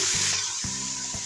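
Boiled mutton pieces sizzle steadily in a pan with browned onions, a continuous close hiss with a few soft stirring knocks, no talking.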